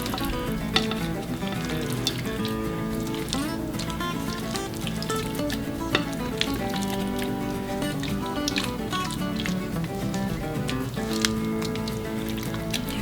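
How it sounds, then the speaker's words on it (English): A thick chicken pot pie mixture of vegetables and potatoes slides into a casserole dish with wet squishing, plopping and patter, followed by scraping. The sounds are close and continuous, with no voices. "I'm just gonna dump my mixture right on into my casserole dish."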